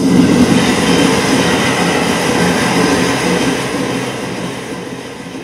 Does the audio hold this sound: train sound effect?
yes